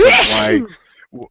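One sharp, loud sneeze bursts out close by, followed by a brief quiet moment and a few soft spoken words.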